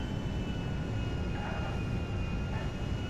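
Concorde jet engines in the GTA 5 video game, heard as a steady, loud broadband roar with a thin whine on top, holding even for a few seconds while the aircraft comes in to land.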